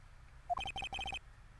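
A telephone rings after a redial in the Phoenix Wright: Ace Attorney video game: a quick electronic ringtone of rapid repeated trilling beeps in short bursts, clear and alone with no talk.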